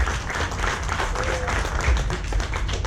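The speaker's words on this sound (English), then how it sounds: "Give them a big round of applause." A crowd gathered for a rooftop firewalk claps together, a busy continuous patter of hands with a low rumble and some murmuring underneath, moderately loud and sustained throughout.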